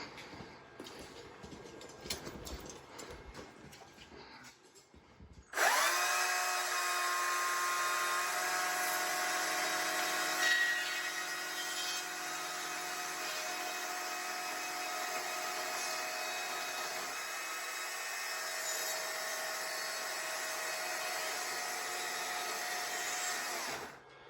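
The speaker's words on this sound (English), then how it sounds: "These saws cut very accurately if you know how to use them." A saw starts up and cuts through a thick log for a handmade timber table. After a few seconds of quieter handling it becomes a loud, steady, continuous motor drone that lasts to the end.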